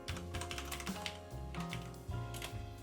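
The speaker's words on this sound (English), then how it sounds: "Go to your chat and type /mod Nightbot." Keystrokes on a computer keyboard as a short command is typed, a quick irregular run of clicks, close and fairly quiet, with no talking.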